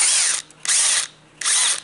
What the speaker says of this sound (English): I want to drill a hole.